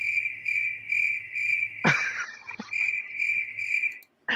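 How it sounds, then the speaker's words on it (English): Soundboard cricket chirping effect, a steady pulsing trill that repeats evenly and stays loud and close, broken once by a short clattering noise partway through before the chirps resume. "Listen to those crickets."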